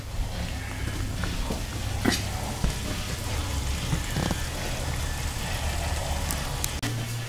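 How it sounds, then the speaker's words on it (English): Steady bubbling and hissing of salted water boiling green peppers in a pot, a continuous close simmer with occasional small pops and clinks. "5 minutes in salted water boiling."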